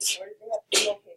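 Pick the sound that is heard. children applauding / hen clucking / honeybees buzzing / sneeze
sneeze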